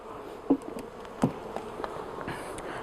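Honeybees from a newly installed beehive colony hum softly and continuously nearby, with individual bees droning past and a few faint knocks and taps mixed in.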